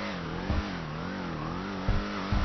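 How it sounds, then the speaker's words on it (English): Hotring Sabre race car engine in GTA 5 Online, a steady mid-pitched rumble that shifts slightly in pitch, with a few short bursts of revving, loud and close throughout. "As for how the vehicle sounds, it actually sounds great."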